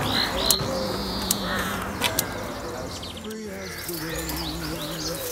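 A frightened bird with its head stuck through green garden mesh calls out in repeated short cries and coos, with other birdsong chirping around it outdoors at moderate distance and a few sharp clicks.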